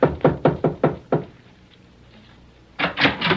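A series of sharp knocks on a door in a radio drama: five quick raps, a pause, then another cluster of loud knocks, close and crisp with no speech.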